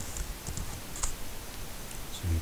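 Quiet tapping of keys on a computer keyboard as a project name is typed, with a run of light, irregular clicks close by and no talking.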